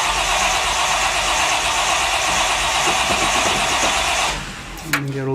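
A 1957 Chevy custom with twin four-barrel carburetors and no choke is started cold: loud, steady cranking close by that runs for several seconds, then cuts off abruptly near the end.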